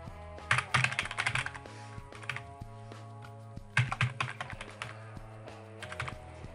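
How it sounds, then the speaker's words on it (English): Admin login credentials are typed on a computer keyboard in two quick bursts of close, crisp key clicks separated by short pauses, in a quiet room. "But I've typed in my admin credentials for Office 365, which is just an email address and a password."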